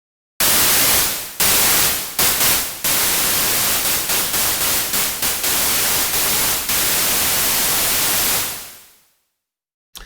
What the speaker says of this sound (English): So then we've got white noise, which I believe does nothing.